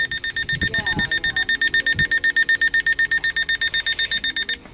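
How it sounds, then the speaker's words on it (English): Siren of an Eton FR1 L.L.Bean Edition emergency radio: a loud, rapidly pulsing electronic beep like a bedside alarm clock, repeating steadily for several seconds while a person talks briefly underneath at the start. "the FR1 L.L.Bean Edition siren"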